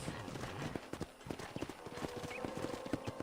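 Rhythmic clip-clop of horse hooves on hard ground at a ranch corral in Red Dead Redemption, steady and close, with a brief whinny-like sound and faint background ambience.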